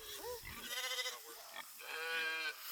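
Several wavering sheep bleats sound close by at a vineyard, a short one followed by longer, quavering calls, with faint talking mixed in.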